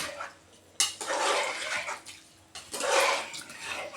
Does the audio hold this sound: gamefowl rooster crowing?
no